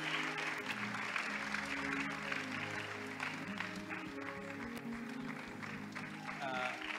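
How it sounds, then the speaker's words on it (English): Church congregation applauding during a celebration for a family bishop, steady clapping spread across the room at moderate distance, blended with voices and some music underneath. "Applaud for God."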